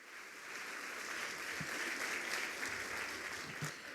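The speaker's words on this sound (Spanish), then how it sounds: "Un aplauso y muchas gracias a todos ustedes." An audience applauds the panelists at the close of a conference panel, sustained clapping that swells and holds evenly at moderate distance, with no voices over it.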